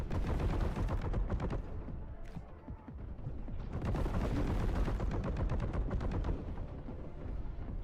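Rapid, sustained gunfire from the Warhammer 40,000: Boltgun video game, dense bursts of shots pounding almost without pause across the whole stretch, loud and close.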